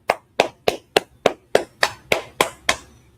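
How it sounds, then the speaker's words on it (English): Ten sharp, evenly spaced hand claps ring out in a steady rhythm, each crisp and close with a short room echo, no voices between them. "Clap it up."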